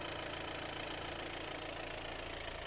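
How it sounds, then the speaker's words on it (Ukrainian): A 2020 VW Tiguan Allspace 2.0 TDI diesel engine idles steadily with a low, even knocking chug, cooling fan stopped, recorded close up with no voices. "Вентилятор призупинився, отже, демонструю вам роботу"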